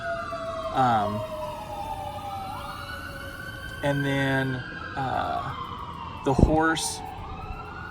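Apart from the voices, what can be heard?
ambulance and fire truck sirens passing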